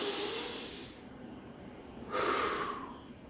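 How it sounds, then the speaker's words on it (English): Heavy breathing from someone doing an elbow-to-knee bodyweight move in an Animal Flow workout, with a steady breathy hiss and then one stronger, louder exhale near the end, no talking. "Inhale as you come in. Big exhale out."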